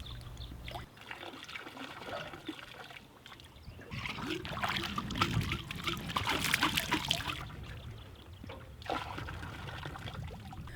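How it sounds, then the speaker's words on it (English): A sample bottle on a pole rinsed in river water at the Kotlik River, sloshing, splashing and trickling that swells in the middle and recurs near the end, moderately close and without talk. "screw the bottle onto a pole and rinse the bottle at least 3 times"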